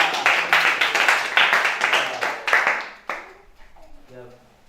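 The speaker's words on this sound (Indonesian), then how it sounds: "Ya, tepuklah." A Scout group audience claps in a few rhythmic bursts for about three seconds before the clapping stops and the room goes quieter.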